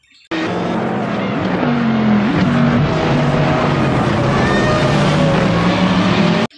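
A red Formula One toy race car speeds along, its small motor giving a continuous loud whirring buzz with wavering pitch for several seconds, then cutting off abruptly.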